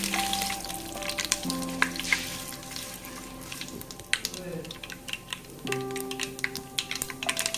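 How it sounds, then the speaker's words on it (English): Curry leaves sizzle in hot oil alongside mustard seeds and split dal, a steady crackling fry with sharp pops and spatters, while a voice speaks over it and a utensil clicks now and then. "and now I'm going to add in the curry leaves."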